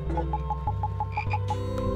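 A frog in the video game House croaks in a quick regular series of pulses, loud and close, layered over a droning musical background.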